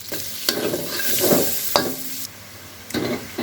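Chopped onion frying with a tablespoon of ghee in oil left from frying chicken for a chicken roast, a steady sizzle broken by a few sharp spoon scrapes and stirs, close and alone.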